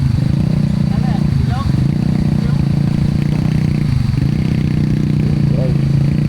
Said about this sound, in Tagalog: Subukan natin dito yung lakas guys ng mga motor ulit.